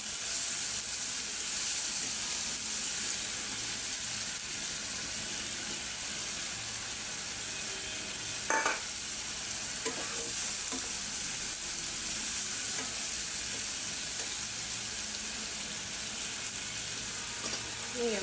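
Prawns fry in a spice paste with salt as they are stirred in the pan, a steady close sizzle broken by occasional scraping and clinking of the spoon, with no voices.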